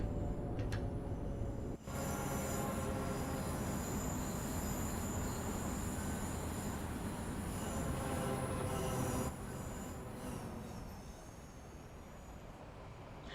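A Class 710 electric train runs through Clapham Junction in Train Sim World 4, with steady, loud rolling rumble and metallic wheel squeal carrying throughout, a brief dip near the start and a slight drop in level toward the end.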